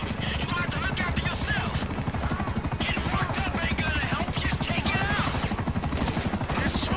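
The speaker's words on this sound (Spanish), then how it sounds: "Ahí viene un helicóptero y todo" A helicopter in the video game GTA V thumps with a steady, fast rotor chop throughout, loud and close, with occasional higher-pitched game sounds layered over it.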